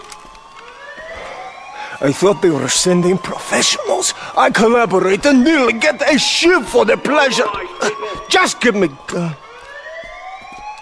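Prison lockdown alarm siren in Grand Theft Auto V Online, rising wails at the start and end that keep sounding under steady, close conversation.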